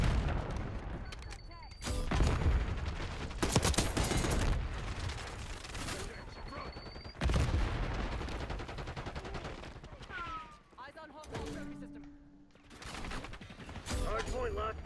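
Rapid automatic gunfire and booming explosions from a Call of Duty Black Ops 6 multiplayer Hardpoint match come in several loud bursts with brief pauses, mixed with game announcer callouts.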